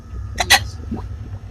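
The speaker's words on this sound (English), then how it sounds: "Bless you, whoever that was that just sneezed." A short, sharp sneeze bursts out once amid low background murmur, brief and fairly close.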